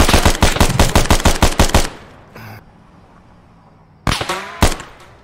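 Automatic gunfire in the military shooter Arma 3 on the island of Tanoa, with a rapid burst of about a dozen loud cracks, a pause with a faint distant shot, then another close burst and a heavy report.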